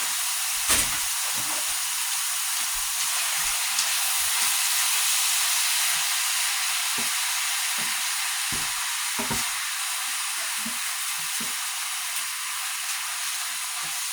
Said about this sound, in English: Now you can really hear it cooking.